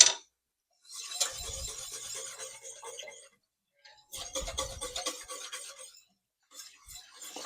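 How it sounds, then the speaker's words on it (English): Whisk scrapes and rasps against the pot while breaking up chunks in cauliflower soup, three close bursts of scratchy stirring separated by brief silences, with no talk. "if I see any chunks, I just use a whisk."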